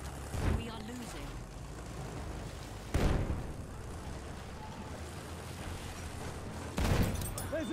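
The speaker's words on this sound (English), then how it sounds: "Enemy machine gun!" Battlefield 1 combat with bursts of gunfire and booming impacts at three points, over a continuous noisy battlefield bed, with game voices calling out.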